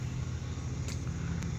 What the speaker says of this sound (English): He's got a old Ford. He forgot that we use mufflers these days.